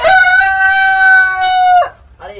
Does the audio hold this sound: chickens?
yes